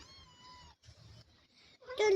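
A cat gives one clear, tonal meow, close and fairly soft, followed by brief quiet murmurs and then a louder burst of voice.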